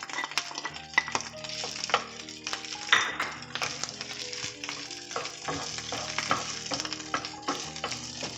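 Plain cooked rice fries in a pan for omelette fried rice, sizzling steadily with scraping stirs and clinks of a utensil against the pan, close and continuous.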